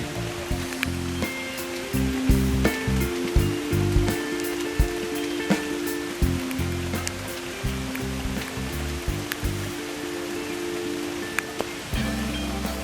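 Rain falls outside on a vegetable garden in late June, a steady soft patter with scattered sharper drips heard through a window or doorway, low in level with a constant low hum beneath it.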